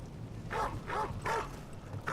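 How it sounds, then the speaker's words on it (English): Three evenly spaced dog barks from a video game, moderately loud against a low background rumble, each bark short and bright with clear pauses between them. "What's up, Mr. Barky Dog?"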